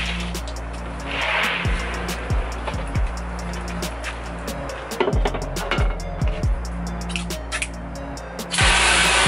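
Outdoor washout booth where a hose sprays water across a screen printing screen, a steady hiss running the whole time, broken by knocks and clatter from handling the frame.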